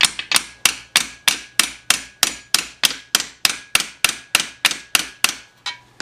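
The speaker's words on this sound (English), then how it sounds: "get a hammer and just gently press it in." A hammer taps studs into a Honda catalytic converter, producing a close, regular series of about twenty sharp metallic knocks, evenly spaced and ringing briefly, with no voices.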